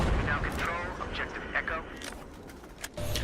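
Teammates' gunfire in the Battlefield 4 video game during a night operation, heavy booming shots and rattling bursts under continuous talking, with a dull roar of battle throughout.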